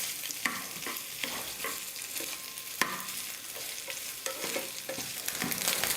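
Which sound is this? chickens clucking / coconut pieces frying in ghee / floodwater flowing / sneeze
coconut pieces frying in ghee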